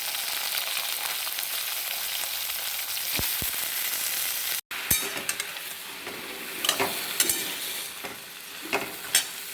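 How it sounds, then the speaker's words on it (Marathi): Potatoes fry in a pan for a fasting-day potato dish, making a bright, continuous sizzle close by, broken by a sharp clatter partway through and a few light scraping stirs afterward, with no speech. "आपल्यामध्ये मी बटाटे घालून घेते सगळं"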